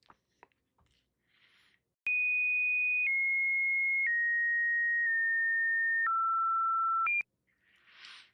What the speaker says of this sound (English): The audio is often a series of beeps, clicks, or static noises, sometimes resembling dial tones or electronic signals.